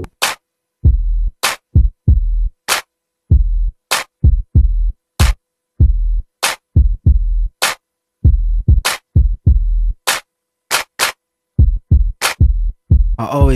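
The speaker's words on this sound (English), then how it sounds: "Now we need to add some drums." Programmed drums layered onto a keyboard chord loop: punchy low kick thumps alternate with crisp, bright snare or clap hits in a steady, repeating beat, loud and up front.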